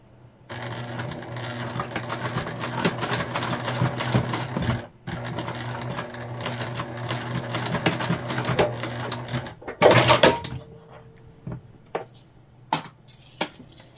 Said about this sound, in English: we're just going to do a quick baste on this